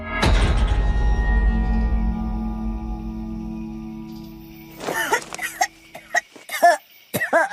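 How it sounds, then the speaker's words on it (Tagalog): An elderly woman coughs harshly in a sudden close burst that rings out and fades, followed a few seconds later by more rough, broken coughing sounds. "dinalahit siya ng ubo gaya ng dati"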